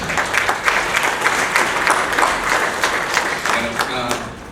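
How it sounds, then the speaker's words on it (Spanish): Audience applause rings out for a guest speaker being welcomed at an internal audit talk, a steady wash of many hands clapping close by, with a few voices murmuring underneath. "recibamos pues un fuerte aplauso a Gerardo Herrera Perdomo"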